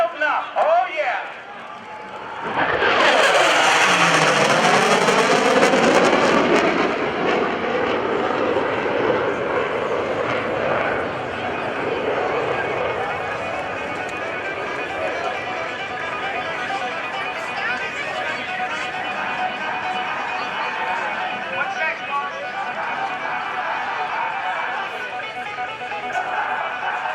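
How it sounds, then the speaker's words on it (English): F/A-18C Hornet jet making a high-speed pass at an airshow, a loud roaring rush that swells suddenly, then a long fading engine rumble with crowd chatter underneath. "This is the Hornet high-speed pass."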